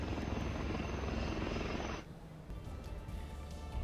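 Loud, steady helicopter rotor and engine roar fills the scene overhead, continuous throughout, with a slight drop in intensity partway through.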